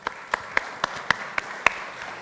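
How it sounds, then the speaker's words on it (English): A small audience claps for a panel of guests at a cyber security and ethical tech forum, a thin, steady run of separate hand claps at moderate distance, fairly quiet throughout. "A round of applause for our distinguished panel"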